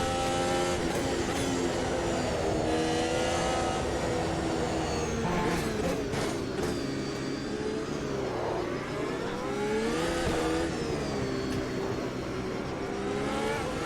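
A formula race car engine in the Automobilista 2 racing game screams at high revs, rising and falling through gear changes with wheel spin, loud and continuous throughout.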